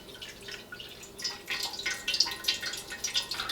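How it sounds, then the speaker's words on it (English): Salt water dripping and trickling through a coffee filter set in a fine mesh sieve, a quick irregular patter of small drips growing a little louder partway through, close and alone without talk. "All right, let's pour some salt water."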